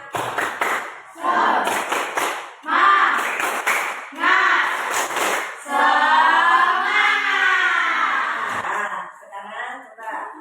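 A classroom of students performs the 'tepuk semangat' clap routine, with short bursts of rhythmic group clapping mixed with loud chanting voices.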